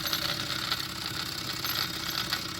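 Wilesco D406 model steam engine running steadily on a rolling road, a continuous light mechanical rattle from play in its parts, close and even throughout with no voices.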